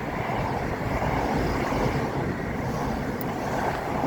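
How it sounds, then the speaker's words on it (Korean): Strong wind blows outdoors, rushing as a continuous, loud, broadband roar that buffets the microphone throughout, with no voices and no breaks. "이 바람 때문에 그렇구나."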